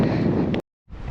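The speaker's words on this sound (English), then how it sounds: "It's a bit cold and windy." Strong wind buffets the microphone on a coastal jetty in a steady roar, cutting out briefly before gusting back in.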